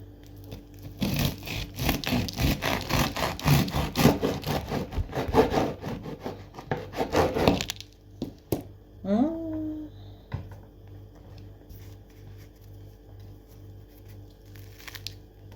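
A knife saws through crusty bread with prunes in rapid scraping strokes for several seconds, crackling loudly, then stops; a few faint clicks and a brief voice follow.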